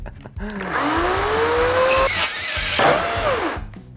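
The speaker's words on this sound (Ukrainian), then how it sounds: "Давайте ще один доб'ємо і вже не будемо мучити цю пилу" A cordless saw whines loudly and continuously through a 100x100 mm timber beam, its pitch rising and bending under load, with brief dips as the blade bogs down.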